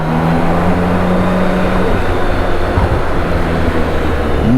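A BMW K1600 GTL touring motorcycle on Michelin Road Pilot 6 GT tyres cruises steadily, its smooth six-cylinder engine drone blended with a loud, constant rush of wind, without speech.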